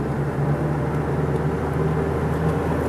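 An original 1987 Plymouth Caravelle drives along the road, its steady interior engine drone and road rumble carrying evenly and fairly loudly from start to finish, with no voices.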